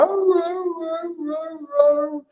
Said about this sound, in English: If you guys hear some singing in the background, it's actually my husky.